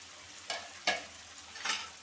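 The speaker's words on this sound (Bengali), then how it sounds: "এখন মশলার সঙ্গে একটু কষাই নেব পটলগুলো চিংড়ি মাছ দিয়ে আর মশলা দিয়ে একসঙ্গে" Fried pointed gourd and prawns are stirred in a pan of spices, giving a low steady sizzle broken by three brief scraping strokes of a spatula, close by, with no talking.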